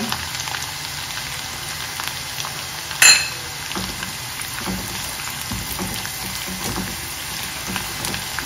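Ginger and garlic sauté in a pan for squid masala, giving a steady, close, moderate sizzle with a brief clatter of utensil on pan partway through.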